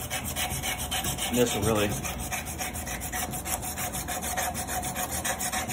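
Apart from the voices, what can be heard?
sanding metal with 150 grit emery cloth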